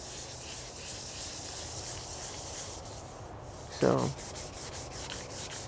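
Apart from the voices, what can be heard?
hand sanding car bodywork with 400 grit on soft block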